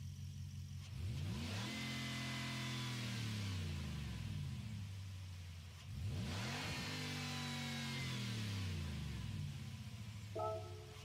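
Supercharged Ford race car in Gran Turismo 7 revs hard twice, each run climbing through the gears with rising engine harmonics and a dip between, loud and close with no talk.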